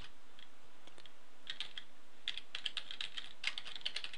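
Slow, deliberate typing of Java code on a computer keyboard, scattered clicky keystrokes that grow into steadier runs of taps, close and fairly quiet, with no talking.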